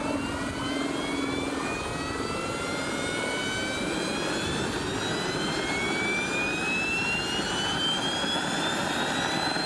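Small jet engines, each about 45 pounds of thrust, run steadily on a jet-powered sailplane, a loud continuous whine with rising pitch over a constant roar, heard alone without voices.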